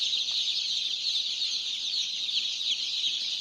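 One-day-old Tiger chicken chicks in a brooder keep up a dense, continuous chorus of shrill peeping, close by and unbroken throughout.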